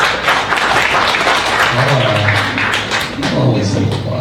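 Audience applause at a Bitcoin meetup talk: dense, continuous clapping from a crowd filling the room, loud and steady throughout, with some voices mixed in.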